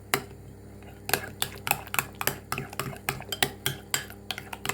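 Repeated clinks of a spoon against a bowl as a yogurt and grated garlic mixture is stirred, a steady series of sharp metallic taps close by.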